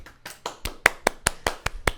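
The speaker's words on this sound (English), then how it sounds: "I think we all need to give a round of applause to Benjamin Franklin." Slow, evenly spaced hand claps, about ten sharp distinct strikes in two seconds, sound from a small group or single person, quiet and close, with no other sounds between them.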